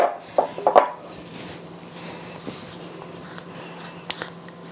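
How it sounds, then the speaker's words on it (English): Metal utensil scraping Nanaimo bar filling out of a bowl, with a few sharp clinks and scrapes up front, then softer scraping close by with no talk. "I'm going to take my filling and scrape as much of it as you can from the bowl"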